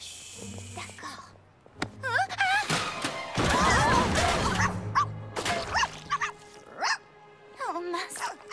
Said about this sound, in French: Le bébé chien a renversé la peinture.